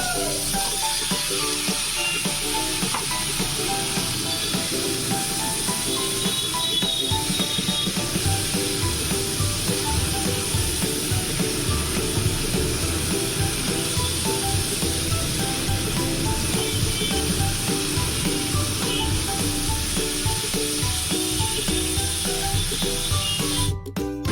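Raw plantain pieces are dropped into a pan of frying prawns and stirred, giving a steady, loud sizzle and hiss that runs throughout with faint scraping and clatter underneath.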